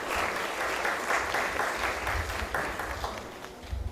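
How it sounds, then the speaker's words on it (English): Sustained audience applause fills a public assembly on Caribbean constitutional reform, a dense, steady wash of many hands clapping at moderate loudness with no speech over it. "Assembly, please applaud them."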